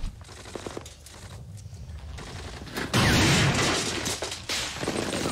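Battle gunfire from the WWII war series Band of Brothers: scattered shots and rattling bursts build into a loud, dense volley of fire with booming impacts.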